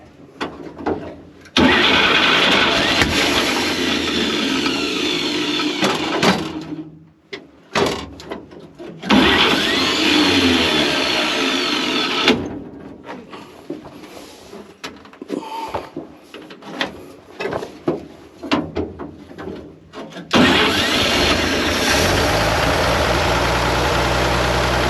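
A Chevrolet Blitz with a big six-cylinder engine cranks several times with stops and restarts, then fires and settles into a rough, loud, low idle that keeps running at the end.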